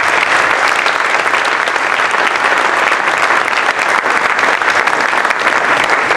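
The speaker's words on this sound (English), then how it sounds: "How about a round of applause for everyone?" Audience applause fills an awards evening for Cincinnati Children's 2013 Making A Difference Award, a dense, steady wash of clapping from a large crowd that holds loud and even throughout without any speech.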